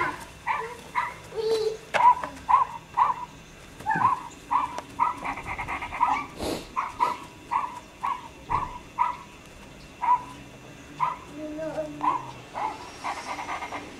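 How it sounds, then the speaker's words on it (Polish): A dog pants rapidly in quick rhythmic bursts, close by, with a few soft whimpers and a voice speaking faintly in the background. "Chodź do pieska."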